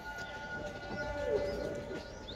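Pigeons coo softly on a rooftop terrace coop, a low throaty call rising in the middle, faint against a steady background hum with a few light chirps.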